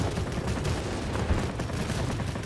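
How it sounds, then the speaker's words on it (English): Aircraft machine guns fire in World of Warplanes, a steady, rapid chatter of automatic bursts under engine roar, held at an even loudness for the whole stretch. "Guns are overheating here"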